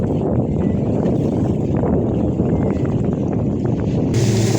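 Bay boat near Saint-Valery-sur-Somme picks up speed, its engine roar and rushing water blending with heavy wind buffeting the microphone in a loud constant wash.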